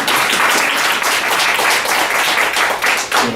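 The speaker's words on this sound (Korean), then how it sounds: "박수 한번 치겠습니다." A congregation at a Korean Protestant pastor ordination service claps in a dense, loud burst of applause that carries on steadily for a few seconds.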